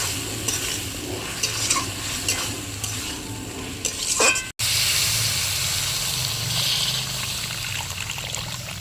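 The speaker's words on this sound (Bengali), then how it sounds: "আলুটা দিয়ে ভালো করে কষিয়ে নেব" Chicken and cut potato fry and sizzle loudly in a pan while being stirred, the spatula scraping in uneven strokes over a continuous hiss, with a brief break midway.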